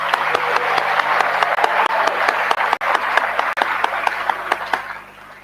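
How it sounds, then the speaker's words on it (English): An audience at a school induction ceremony applauds the grade six inductees with steady, dense clapping that holds for several seconds, then tapers off at the end. "give an applause to the grade sixes as the inductees of 2022"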